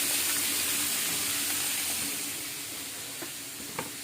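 Vegetables go into a sizzling pan for pansit gisado, producing a strong, steady frying hiss that eases slightly as it goes on, with a couple of soft utensil taps near the end.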